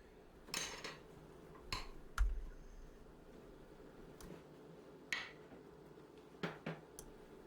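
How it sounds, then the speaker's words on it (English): Sausage, potato, onion and egg are mixed in a bowl, giving faint, scattered clinks and scrapes of a utensil against the bowl at irregular intervals over a quiet background, with no talking. "I'm going to mix them well"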